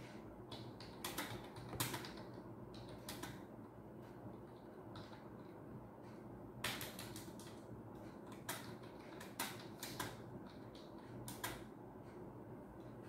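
Someone types a sentence in Word on a computer keyboard, giving irregular bursts of key clicks with a few louder strikes, close and fairly quiet over a steady low background hum, with no talking.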